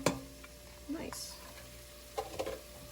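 Onions, peppers and jalapenos cook in a pot for chili, giving a low, steady sizzle with a couple of brief stirring scrapes and clatters partway through.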